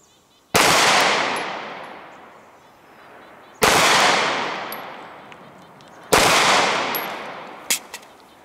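Three loud, sharp Glock 17 Gen 5 pistol shots fired at 10 yards at an outdoor range, each with a long ringing echo that slowly decays, spaced a few seconds apart and not overlapped by speech.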